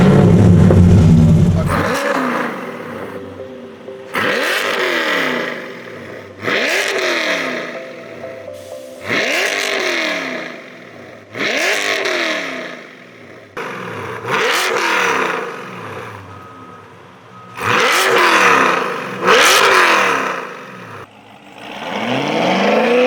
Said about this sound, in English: I heard this shadow gray metallic C8 Corvette.